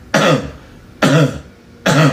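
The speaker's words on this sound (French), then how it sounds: "Tu vas tousser comme ça." Three separate harsh coughs, evenly spaced about a second apart, close and loud with quiet gaps between.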